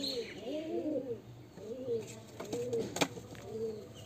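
A biscuit-coloured female pigeon, blind in one eye from birth, coos nearby in a series of soft, repeated rolling calls with brief pauses, heard close and fairly quiet.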